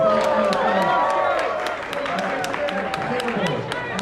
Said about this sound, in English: give her a round of applause for that man's shirt, please